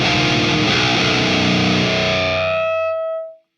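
Electric guitar driven through a modded BOSS SD-1 overdrive pedal (Japanese dual monster mod), a thick distorted chord ringing loudly then decaying over about three seconds into silence, no voices.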